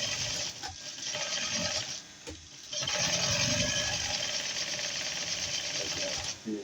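A sewing machine stitches a small child's round dress, running in loud, fast, continuous bursts with a brief pause near the middle, close to the microphone.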